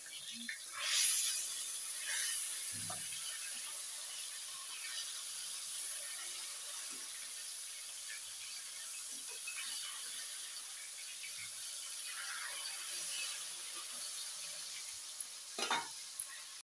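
Fish fry in a pan after being flipped, with a steady hissing sizzle throughout. A louder burst comes near the start, and a few scrapes and clicks of a utensil sound close by, with no clear speech.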